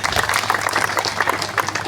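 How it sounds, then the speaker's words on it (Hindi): Brief, moderately loud clapping from an audience at the launch of an agricultural campaign event in Bawana, Delhi, with scattered individual claps standing out. "तो इनके लिए भी जोरदार ताली तो बजनी चाहिए एक बार"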